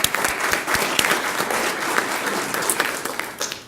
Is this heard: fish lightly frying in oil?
no